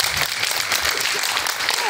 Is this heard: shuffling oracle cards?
no